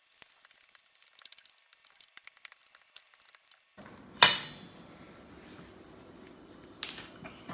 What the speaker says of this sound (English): Now I am gonna mix all of the stuff up.